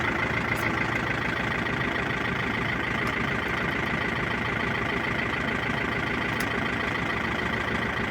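A YuMZ tractor engine runs at a steady, close idle-like drone while its hydraulic cylinder lowers; faint brief clicks sit over the continuous engine noise.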